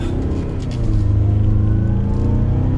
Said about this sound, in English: Let's go ahead and pop it into sport mode here, and we'll give it a little bit of gas getting up to the speed limit